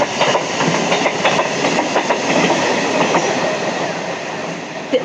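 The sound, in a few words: train passing by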